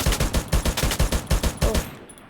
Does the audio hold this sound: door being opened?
no